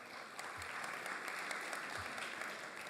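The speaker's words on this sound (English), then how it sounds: "Another round of applause for your previous award winners." Steady applause from a crowd, dense clapping that holds at an even level throughout with no voices standing out.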